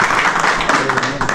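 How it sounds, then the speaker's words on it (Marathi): An audience at an event about rescuing a python from a wind turbine applauds together, a dense, steady wash of clapping lasting about a second and a half, close and fairly loud with no break. "सरांना परत एकदा सर्वांनी टाळ्या वाजवून धन्यवाद"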